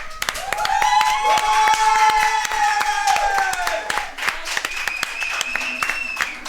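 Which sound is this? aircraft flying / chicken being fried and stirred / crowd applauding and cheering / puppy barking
crowd applauding and cheering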